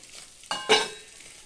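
Fish frying in a pan gives two short bursts of sizzling, one sharper than the other, then fades to a quiet hiss. Nobody speaks.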